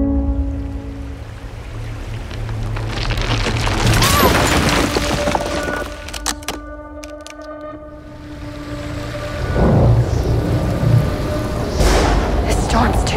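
A big thunderstorm rolls through the mountains, deep thunder rumbling and rain hissing beneath dramatic music and layered effects, swelling loud, dipping briefly, then surging again.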